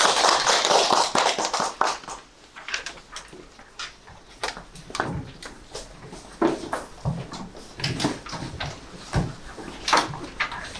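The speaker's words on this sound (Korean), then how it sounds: "큰 박수로 맞아주시기 바랍니다" Applause from a seminar audience welcoming a university architecture professor, many scattered claps at moderate distance, starting dense and thinning into lighter irregular clapping.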